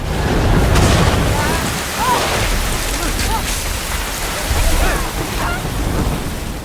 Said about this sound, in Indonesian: hujan badai pun menerjang hingga membuat camp mereka luluh lantah